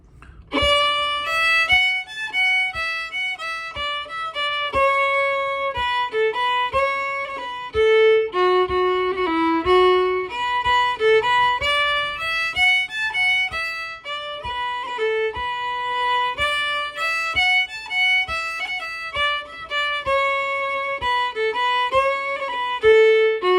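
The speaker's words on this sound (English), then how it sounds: "this is a video about part B of a slide called An Chóisir" Part B of An Chóisir, an Irish slide tune also called the Túr Mór slide, is played as a solo melody with a lilting, bouncy rhythm. Clear, close single notes run steadily for about twenty seconds.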